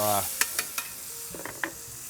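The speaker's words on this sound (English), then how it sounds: "these are just some caramelized onions. We're gonna heat that up a little bit" Caramelized onions, sliced thin, reheat in a hot oiled pan with a soft steady sizzle, broken by several sharp clicks and scrapes of stirring, close and moderately loud.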